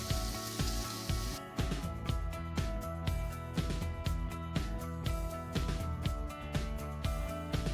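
Sliced onions frying in hot oil for Bengali macher kalia, a dense, continuous sizzle with crackling pops throughout, close and alone with no voices.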